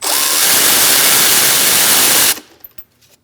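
A power ratchet spins briefly as a 10mm socket loosens the positive battery terminal nut on a 2000-2006 Mini Cooper. The whir is loud and close and cuts off sharply, followed by a few faint clicks and taps.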